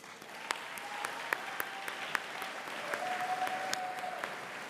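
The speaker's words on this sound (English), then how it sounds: "Another round of applause." A crowd applauds steadily for several seconds, a dense, even wash of clapping with a few sharper claps standing out.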